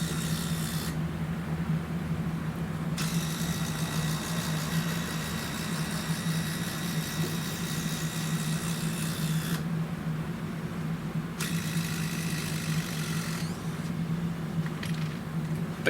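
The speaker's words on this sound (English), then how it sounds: "the regular impact driver, which has a much higher RPM, can back these screws out a fair bit faster" Impact drivers back bugle batten screws out of a treated pine log, giving a steady, loud mechanical whir and rattle with a low hum underneath, broken into several continuous bursts of high-pitched hammering with brief pauses between.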